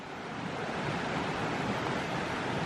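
A stream on a hiking trail rushing steadily, a dense even wash of flowing water close to the microphone, with no voices.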